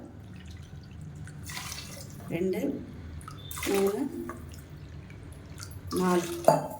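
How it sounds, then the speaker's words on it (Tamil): Water is poured into a pot for wheat porridge in three short splashing bursts, with a person speaking softly between the pours. "4 கப்பு தண்ணி ஊற்றிருக்கேன்."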